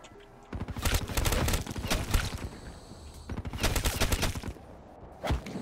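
RPK light machine gun fire in Call of Duty Black Ops 3 Zombies on the Moon map, two loud sustained bursts of rapid automatic shots separated by a short pause, followed by a single blast.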